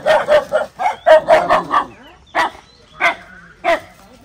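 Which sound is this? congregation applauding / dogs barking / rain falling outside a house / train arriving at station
dogs barking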